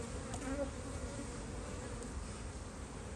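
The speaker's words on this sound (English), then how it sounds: "We just blow the bees out." Bees hum at a beehive fitted with a pollen trap, a dense, steady buzzing swarm heard close and continuous without any speech.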